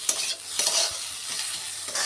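Potato and capsicum pieces fry in a pan with a continuous close sizzle, stirred now and then with light scraping and dull knocks.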